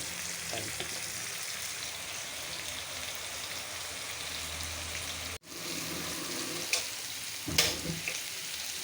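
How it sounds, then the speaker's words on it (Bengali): Koi fish fry in a pan of oil, a steady hissing sizzle with a short cut midway and a couple of brief louder spatters or knocks later on. "আর এখানে হচ্ছে কই মাছ ভাজা, ভাইজা রান্না করব।"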